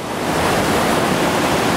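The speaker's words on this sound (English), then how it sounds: "Instead, we got some great waves right on down the middle." Whitewater rapids on the Gauley River at about 2800 cfs, a dense continuous roar of rushing, crashing water that swells in at the start and then holds steady and loud, with no voices.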